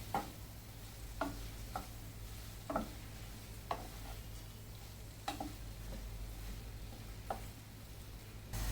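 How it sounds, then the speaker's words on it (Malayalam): A spoon stirs sprouted beans and onion softening in a pan, giving light scattered scrapes and taps over a faint steady sizzle. "ഇനി നമുക്കതൊന്ന് മിക്സ് ചെയ്ത് കൊടുക്കാം"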